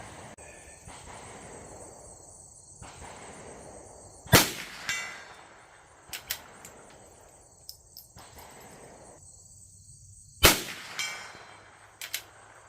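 Shots from a Savage Cub .22LR rifle fired at targets 100 yards away: two sharp, loud cracks about six seconds apart, with fainter clicks and knocks between them and a steady insect chirp throughout, outdoors with no talking.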